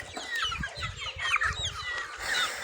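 A Silkie Bright rooster used for crossbreeding clucks and chatters in a series of short, close calls, with other chickens faintly around it and no talk.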